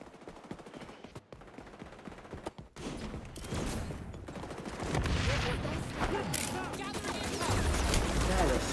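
Bursts of automatic gunfire from the online shooter XDefiant, rattling in dense volleys that build in loudness over the second half, with game sounds and occasional voices layered underneath.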